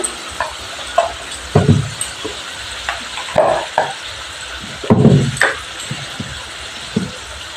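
Spice paste for a Bengali bhola fish curry frying in a pan, with a low sizzle broken by irregular stirring and scraping knocks of a spatula against the pan, close up and without talking.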